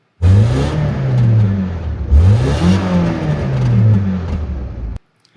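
A car with an aftermarket exhaust revs hard twice, each blip rising and falling in a loud close roar before cutting off abruptly.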